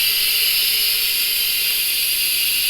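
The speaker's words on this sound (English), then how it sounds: "Now we're going to manually release the valve pressure." An Instant Pot vents its steam through a manual pressure release, making a loud, steady, high hiss that stays constant throughout, close up and alone.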